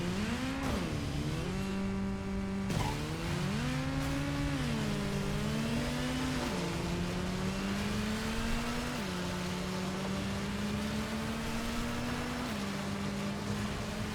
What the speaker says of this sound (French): je peux appeler ma moto ici